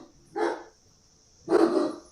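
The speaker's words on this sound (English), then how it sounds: "These are my dogs." Dogs bark indoors at home, probably as someone arrives at the door. There are two separate barks about a second apart, fairly close and clear, with no talk.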